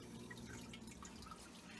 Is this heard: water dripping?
yes